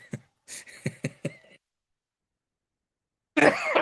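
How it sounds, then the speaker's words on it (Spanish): A person coughs and clears their throat in a quick run of five or six sharp, close bursts, then falls silent before a louder rough sound resumes. "Ya no me hagan reír, porque me da tos"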